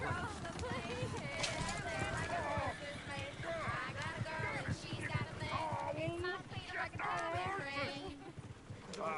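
Horse hooves clip-clopping in Red Dead Redemption 2, a steady run of hoofbeats mixed under frequent talking voices and busy game ambience.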